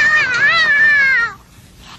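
A startled cat lets out a loud, drawn-out yowling meow close by, wavering in pitch for over a second before cutting off into quiet, followed by a brief rustle.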